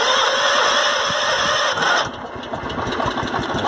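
A Wheel Horse garden tractor engine cranks and catches. A loud, steady mechanical roar fills the first two seconds, then drops into a rougher, lower running note as the engine settles.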